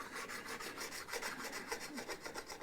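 Abrasive grit on a straight edge is rubbed back and forth across the frets of a Westone Thunder 2A guitar, giving a steady rhythmic rasping scrape, close and continuous with no talk.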